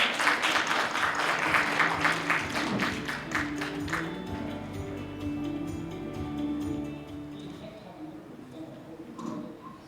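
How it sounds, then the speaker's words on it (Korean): Audience applause at the 2025 Global Leaders Forum special session greets a panel discussant: a few seconds of dense clapping in a hall, then it fades as a voice begins speaking. "네, 박수로 맞아야겠습니다."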